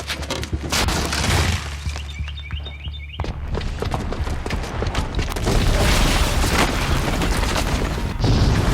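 A booby-trapped bomb in Horizon Zero Dawn goes off as a heavy, sustained explosive rumble with deep booming low end, crashing debris and mechanical clatter filling the whole stretch, loud and close throughout.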